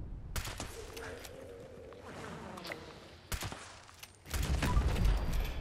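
Gunfire in Fallout 76 sounds as a few sharp, separated shots at an enemy, followed by a heavier rumbling burst of noise.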